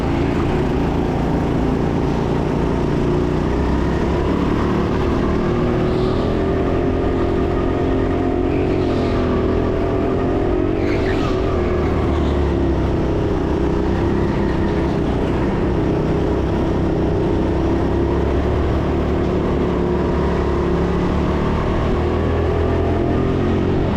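Go-karts race around an indoor track in Sheffield. A loud, steady engine drone with a shifting rev pitch runs for the whole stretch, and no one talks over it.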